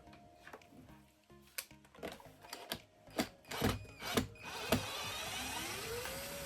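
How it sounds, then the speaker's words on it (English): Screws being removed from the foot and nozzle assembly of a Bissell Crosswave, giving a run of small clicks and ratcheting turns up close, ending in a steady mechanical whir. "let's turn this around and let's get these screws out"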